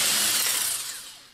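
A Milwaukee 2662 electric impact wrench spins a lug nut off a Mercedes W220 wheel, giving a short, loud, bright whirring burst that fades over about a second.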